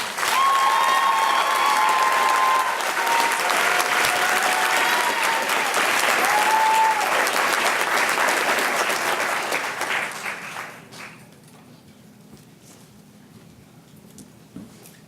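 Loud, sustained applause from a large crowd at a graduation ceremony, with scattered whistles and cheers, then quickly fading to quiet near the end.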